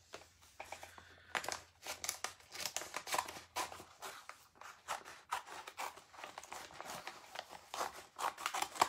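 Scissors snip and paper crinkles while a design is cut out of rice paper, a series of quiet, irregular cuts and rustles spread across the whole stretch, close and soft with no talk.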